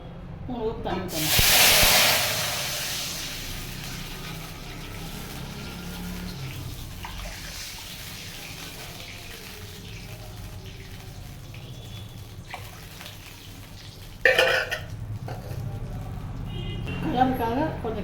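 Water poured into a hot pan while making kesari, a loud burst of hissing steam that fades into a softer, lingering sizzle, with a second sharp hiss near the end, close by.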